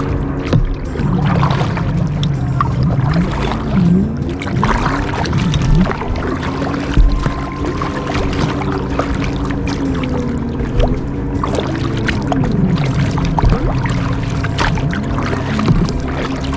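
A canoe or kayak on Pigeon Lake is paddled in a steady stream of close water sloshes and dips, with paddle strokes recurring under a constant loud wash of water.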